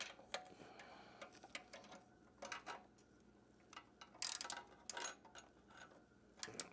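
A wrench clicks in short, faint ratcheting bursts while tightening a nut during an M4 GP19 exhaust install on a 2024 Kawasaki ZX-10R. The taps are uneven and separated by quiet gaps.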